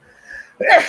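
A single sharp sneeze, short and close, preceded by a faint intake of breath.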